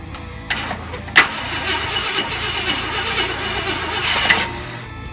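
1966 Ford Thunderbird barn find cranking and trying to fire on first start: a rough, uneven starter churn with a couple of sharp bursts, up close and alone.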